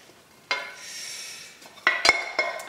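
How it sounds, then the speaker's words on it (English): Melted butter is poured into a Christmas pudding mixture in a bowl, a soft pouring sound followed by several sharp clinks and scrapes of a utensil against the bowl. "The butter I melted earlier, so here we go with the butter."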